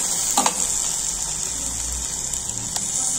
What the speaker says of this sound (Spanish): Agregamos media taza de agua.